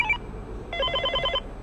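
A Beetel M71 landline telephone rings, a short tone at the start followed by a rapid run of about ten evenly spaced electronic ring pulses, clear and close with no voices.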